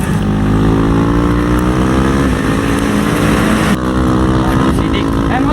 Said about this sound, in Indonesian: Sidik, motor, Sidik